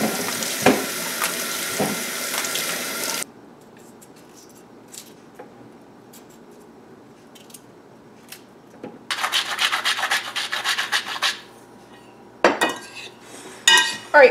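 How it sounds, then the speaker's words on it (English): Knife scraping and cutting through a cauliflower on a board, breaking it into small florets, with bursts of harsh rasping strokes separated by quiet pauses and a few sharp clicks. "Just clean it up and cut them into small bite-sized florets."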